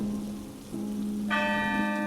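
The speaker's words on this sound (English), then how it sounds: "The snow had stopped, but the rain had once again begun to pour." Rain pours steadily outside a church on a wintry night, a constant soft hiss that runs throughout, joined near the end by a ringing, sustained bell-like tone.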